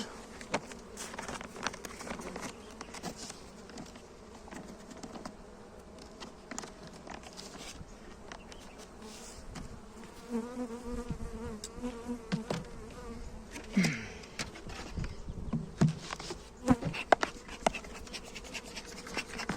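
A weak honeybee colony hums around an open hive as frames are handled, a steady close buzz under scratching, tapping and scraping noises that grow busier toward the end.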